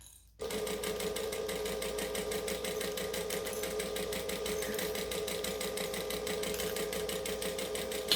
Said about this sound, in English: So I'm going to stitch and back stitch.